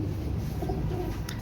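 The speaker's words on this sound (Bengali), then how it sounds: "আপনারা জাস্ট কবুতর পেয়ারটা দেখেন" A pair of caged pigeons coo softly in low, rolling murmurs, with a steady background hum and no talk.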